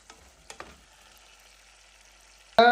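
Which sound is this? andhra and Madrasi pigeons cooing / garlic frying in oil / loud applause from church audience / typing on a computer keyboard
garlic frying in oil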